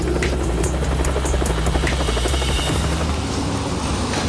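A helicopter sets down on a jack-up barge at sea, its rotor thump and turbine whine loud and steady throughout, with no voices over it.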